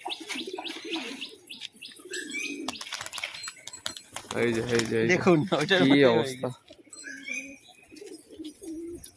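Racing pigeons coo and chirp nearby, with a loud burst of wing flapping midway, while someone talks over the birds.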